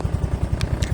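A Yamaha Fazzio scooter engine runs at idle close by, a quick regular low putter with a couple of brief sharp clicks over it.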